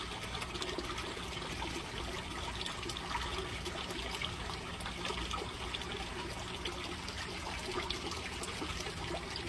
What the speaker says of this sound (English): We're going to watch this drain completely.